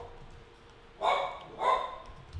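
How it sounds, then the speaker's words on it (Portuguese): A dog barks twice in quick succession indoors at home, sharp and fairly close, over a quiet background hum. "o cachorro tá latindo"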